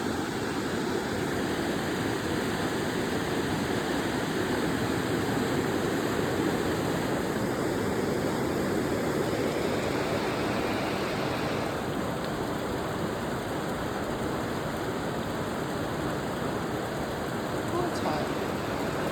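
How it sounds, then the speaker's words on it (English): Hot spring water pours into a cold mountain river at Halfway Hot Springs in Canada, a steady close rush of flowing water that keeps an even level throughout. "Hot spring coming out right there. River."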